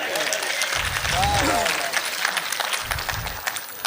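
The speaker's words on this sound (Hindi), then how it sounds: "एक बार तालियां बजा दे" Audience clapping at a Rotary-hosted all-India comic poetry gathering, a steady broad patter sustained for about four seconds beneath a faint voice, with a few lower thumps mixed in.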